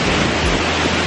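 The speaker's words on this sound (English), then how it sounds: "There it is. Pretty big waterfall." Powerful waterfall in Ubud, Bali, a loud constant roar of crashing water filling the whole sound, broad and unbroken, with no voices.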